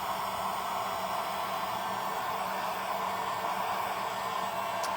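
A hair dryer blows on a painted DIY polar bear craft kit, producing a loud, constant, close rushing hiss with no breaks.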